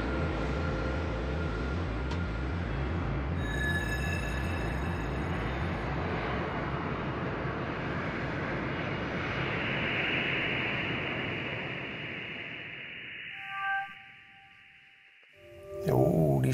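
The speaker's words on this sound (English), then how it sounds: "Oeh, die stijgt mooi op zich." An airplane taking off at Schiphol Airport gives a loud, broad jet roar that holds steady, then slowly fades and thins into a distant whine as it climbs away.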